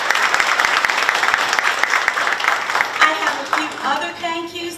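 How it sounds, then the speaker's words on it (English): Applause from the audience at a school district State of Schools address, dense clapping that thins out in the last second or two as a voice begins speaking over it. "Let's give them a round of applause."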